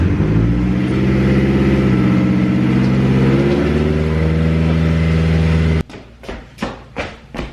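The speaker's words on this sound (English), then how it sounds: "I'm gonna pull out the garage here in a second." A Mazdaspeed 6 idles and pulls out of a home garage, its engine holding a loud, steady, close rumble before it cuts off abruptly into a few sharp knocks.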